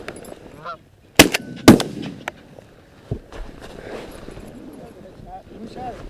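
Shotgun blasts during an early-season goose hunt in Michigan: two loud, sharp shots close together, then a fainter pop, with geese honking and people talking nearby.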